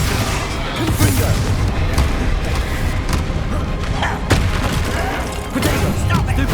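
In the Hogwarts Legacy ending boss fight, a Confringo blasting spell erupts amid continuous heavy combat, dense booming impacts and thuds layered over a loud battle din, with voices speaking over the fighting.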